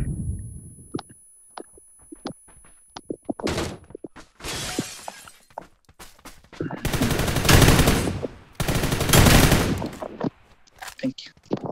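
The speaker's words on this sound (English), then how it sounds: "I tossed some nades, be careful." Grenade blasts and bursts of gunfire in a shooting video game, with scattered sharp shots building to two long, loud, dense volleys near the end; voices talk in between.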